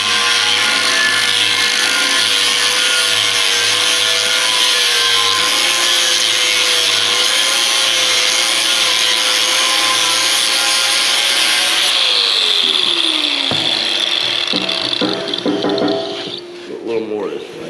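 A saw assembly cuts steadily and loudly through material in a workshop, with a sustained grinding drone that shifts pitch partway through and trails off near the end.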